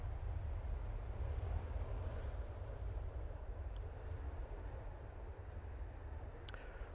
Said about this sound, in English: Just plopping it down onto the runway there.